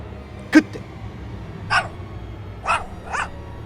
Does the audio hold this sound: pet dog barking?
yes